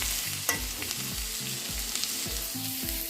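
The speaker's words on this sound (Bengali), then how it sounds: "এখানে আলু ভাজি হচ্ছে" Potatoes fry in a pan in a home kitchen, a steady close sizzle broken by rhythmic stirring scrapes and low clunks about every half second, with no talking.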